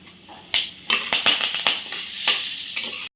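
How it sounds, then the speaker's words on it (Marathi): Curry leaves dropped into hot oil for tempering crackle and sizzle loudly, with sharp spattering bursts over a steady frying hiss and no talk. "आता हा घालूया कढीपत्ता"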